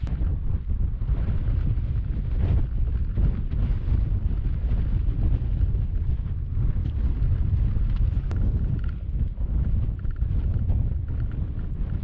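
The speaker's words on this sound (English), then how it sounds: "Wind's dying down a little bit." Wind blows steadily across an exposed mountain trail near the summit of Mt Shavano in Colorado, a constant low rushing roar buffeting the microphone with no talking.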